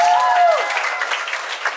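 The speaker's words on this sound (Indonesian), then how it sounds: "Tepuk tangan buat kalian juga" An audience at an English and character camp in Depok claps loudly and steadily, with a voice briefly heard at the start.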